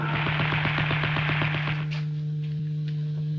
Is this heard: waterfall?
no